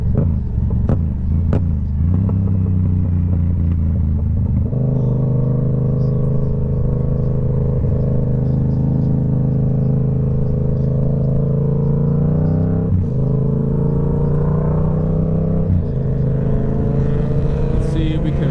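A motorcycle rolls through heavy traffic, lane splitting between stopped cars, with a steady engine rumble and wind roar that rises in pitch as the bike picks up speed.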